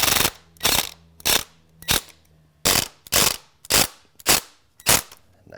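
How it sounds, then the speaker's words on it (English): An exterior door threshold is tapped into place, about ten sharp, close knocks in an uneven rhythm with short gaps between them. "We'll tap it into place right where it needs to be."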